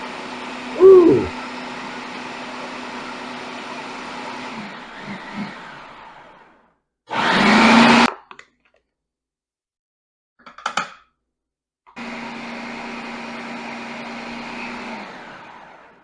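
A blender pulses avocado chocolate mousse in several bursts, loud steady whirring runs broken by short gaps of silence. A brief vocal exclamation comes near the start.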